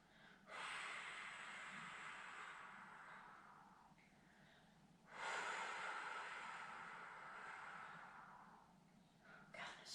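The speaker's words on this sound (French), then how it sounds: "Sur 5 grandes respirations." Two long, deep breaths taken during a pilates exercise, each a close, airy exhale that slowly tapers off, with a quieter intake near the end.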